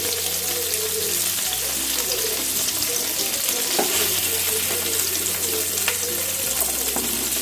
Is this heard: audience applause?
no